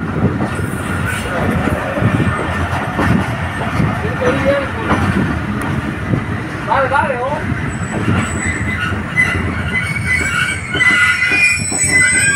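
A train arriving at Dera Nawab Sahib station lets out high, wavering wheel squeals over a loud rolling rumble and clatter, with voices heard alongside.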